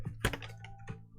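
Bluetooth keyboard being typed on, a few quiet separate key clicks and taps spread over about a second, close and alone.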